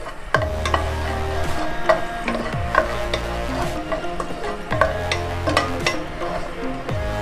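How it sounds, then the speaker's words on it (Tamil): Raisins frying in a pan, close-up, with a steady sizzle overlaid by repeated metal scraping and clinking of a spoon stirring against the pan in an irregular rhythm. "அடுத்ததாக திராட்சை போட்டுக்கலாம். திராட்சை சீக்கிரமாக ஃப்ரை ஆகிடும்."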